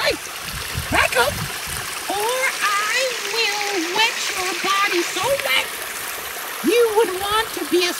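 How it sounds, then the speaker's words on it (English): Feet slosh and splash in stream water on a hike, close and moderately loud, while a voice talks over the water in short bursts. "I am taking a water bath with my toes in the water."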